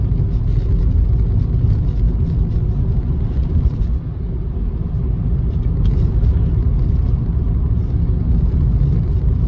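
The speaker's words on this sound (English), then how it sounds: "Driving through these snow-covered trees." Steady, loud low rumble of a Honda Jazz driving through snow past snow-covered trees, continuous road and engine drone with no talk, dipping briefly midway.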